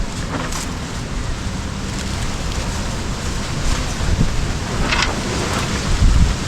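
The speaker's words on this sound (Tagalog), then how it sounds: "Lakas na hangin eh." Strong wind buffeting the microphone in a steady, loud roar that swells toward the end, with no voices.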